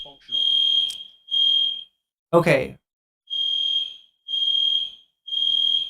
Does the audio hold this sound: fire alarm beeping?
yes